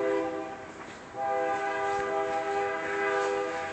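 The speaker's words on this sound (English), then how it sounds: "there's a train coming by" A train horn blares in a sustained, layered chord, holding loud and steady with a brief dip, as the train rumbles past close by.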